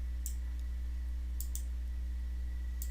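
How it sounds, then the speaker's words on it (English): A few sharp computer mouse clicks while clicking and dragging cells in an Excel spreadsheet, scattered over a steady low electrical hum. "if we click and drag this down,"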